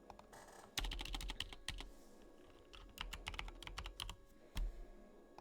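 Someone types a code on a computer keyboard, a close run of quick, irregular key clicks in bursts with short pauses between them, in a quiet room.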